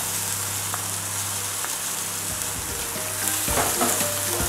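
Chopped two-colour capsicum fries in a pan with a steady, dense sizzle, followed by scraping stirring strokes near the end, heard up close without speech.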